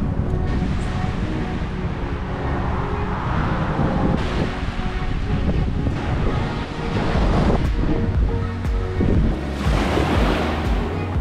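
Ocean surf at Sugar Beach, a long sandy beach on Maui, a constant loud wash of breaking waves mixed with heavy wind buffeting the microphone, with swells surging and receding and no one speaking.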